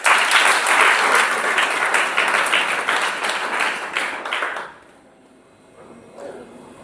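A church congregation applauds loudly and steadily during a worship service, with dense clapping that fades out after about five seconds into quiet room tone.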